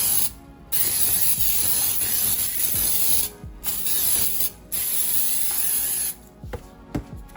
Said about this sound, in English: I'm going to start by lightly spraying with pan baking spray